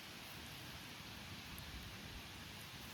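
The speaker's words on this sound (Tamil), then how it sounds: "மழை பெய்யுது" Steady rain falling on a vegetable garden in the UK, a faint, even hiss of dense drops with no talk.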